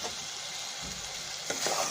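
Dry coriander, red chilli and garam masala frying in a pan for an aloo shimla mirch curry, with a soft sizzle under scraping stirs that clatter louder near the end.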